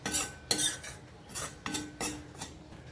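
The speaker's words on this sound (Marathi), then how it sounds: "गॅसची फ्लेम मी मिडियमच ठेवले सो स्लो गॅसवर एकदम छान खरपूस भाजतं बेसन तर खमंग भाजत आलं आहे आपलं बेसन" A spoon stirs gram flour (besan) roasting in a pan over a low-to-medium gas flame, making close, repeated scraping strokes about every half second. No voices are heard.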